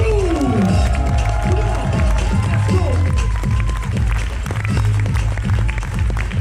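A loud audience at the AJV Battle All Star dance battle cheers, claps and shouts for a breakdance crew, a dense, close roar with whistles and a voice over the top.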